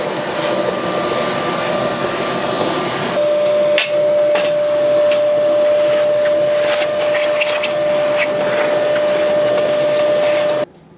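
A shop vac runs loud and steady while vacuuming dust off wood cookstove elements, its whine interrupted by scraping and knocking of the nozzle against metal, then cutting off abruptly.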